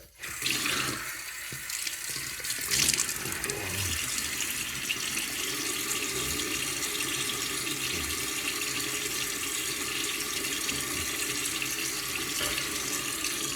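A bathroom tap runs steadily into a sink while a man wets his face before shaving, the water a loud continuous splash with a few brief disturbances near the start.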